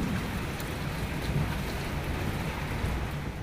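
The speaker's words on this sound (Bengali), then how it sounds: "খেতে বসেছি আর তার সাথে সাথে বৃষ্টিটা শুরু হয়ে গেছে" Rain has just begun falling outside open windows during a stormy spell, producing a soft, even hiss with a low rumble beneath it and no distinct drops standing out.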